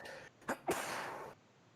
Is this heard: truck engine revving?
no